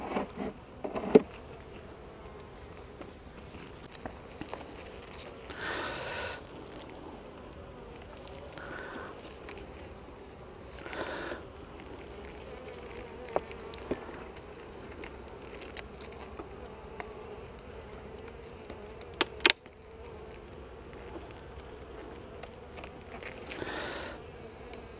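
Honey bees at an opened beehive make a steady, soft buzzing hum that persists throughout, broken by occasional faint clicks and knocks from handling the frames.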